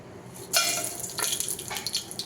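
Oil and butter heating in a pan for dum biryani, with a sudden burst of hissing, crackling sizzle starting partway through and continuing with bubbly fluctuations, close and fairly loud.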